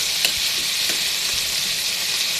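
Sarciadong bangus cooks in a pan with a constant close sizzle, while a utensil stirs it in soft, regular scraping strokes.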